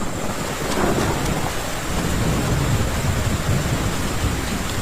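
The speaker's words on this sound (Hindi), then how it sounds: "फिर एकाएक ओले पड़ने शुरू हो गए, बड़े बड़े ओले" A cartoon hailstorm with thunder over a wheat field, a dense, continuous roar of pelting hail and rain with low rumbling underneath, loud and steady throughout with no speech.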